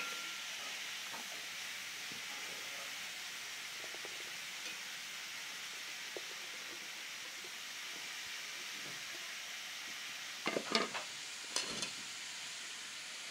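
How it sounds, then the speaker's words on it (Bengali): Potatoes frying quietly in a pan for a village-style dried fish dish with snake gourd, a faint steady sizzle with a few brief stirring scrapes near the end. "এবার আলুগুলো দিয়ে দেব।"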